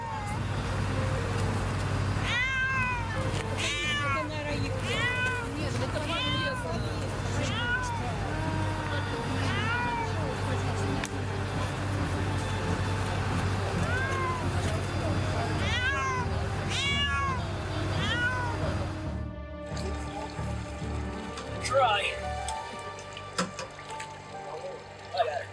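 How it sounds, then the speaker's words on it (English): A rescued kitten meows repeatedly in short rising cries, close and clear over a steady low background hum, with the cries fading out near the end as the sound changes. "Little naughty kitty was saved and takes care of so tenderly."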